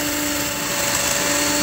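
An electric drill rigged as a bench grinder sands a workpiece with a steady, close, high-pitched motor whine and a constant abrasive hiss, running without pause and with no talk.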